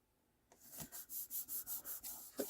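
Paper stamped with a textured pattern, freshly glued onto a notebook cover, rubbed firmly by hand in about eight steady back-and-forth strokes, close and fairly quiet, with no talking.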